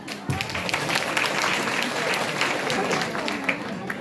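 Audience clapping at a DXN business opportunities meeting in Janakpur, Nepal, a dense steady burst of applause from a hall crowd lasting several seconds, with some voices mixed in.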